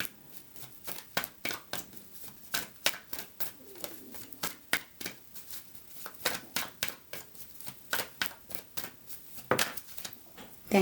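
Repeated crisp riffling and snapping of tarot cards being shuffled, steady and close, continuing with a fairly even rhythm throughout.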